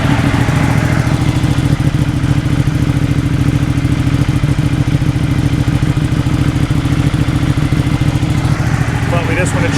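A Ducati Panigale motorcycle engine idling steadily just after an oil change, a loud, close, even mechanical rumble with a faint clatter that holds for the whole stretch while someone talks over it.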